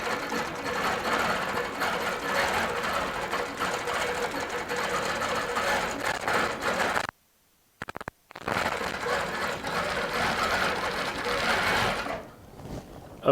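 A Baby Lock Regent sit-down long arm quilting machine stitches through bulky quilt layers in fast, steady mechanical bursts, stopping briefly partway and then running on, close and without talk.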